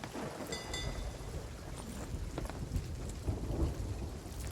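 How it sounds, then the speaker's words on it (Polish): A storm in the pirate video game Sea of Thieves: steady, dense rain and wind noise with low rumbling thunder, heard throughout at a moderate level from aboard a ship, with no talking. "jesteśmy w burzy"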